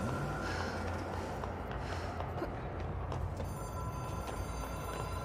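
An old-style telephone bell rings inside the video game Control, a continuous metallic ringing over a low droning game ambience, with no talking.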